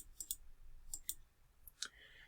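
A computer mouse clicks softly in a few separate pairs and singles, faint and close, with light room noise between them.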